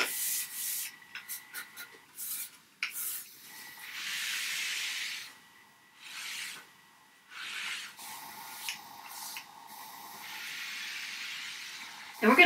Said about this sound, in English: before it dries, you want to kind of give it a nice wipe